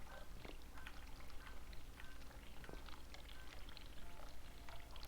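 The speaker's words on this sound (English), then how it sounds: "I can hear the water running." Water running in the horror game The Cat Lady, a steady hiss of flowing water with scattered drips and splashes, continuous at moderate level with no talk.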